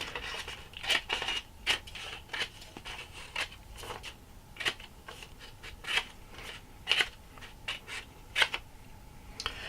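Scissors cutting up a printed paper movie list, a close, quiet series of crisp snips and paper rustles at an irregular rhythm, with no talking.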